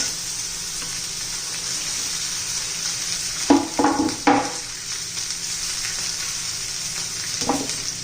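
Chopped okra sizzling in hot oil in a pan, a steady bright frying hiss throughout with a few sharper spatters and stirring knocks in the middle and near the end.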